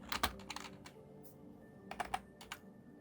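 Fingers type on a computer keyboard in quick bursts of close, crisp key clicks separated by short pauses, with no talking.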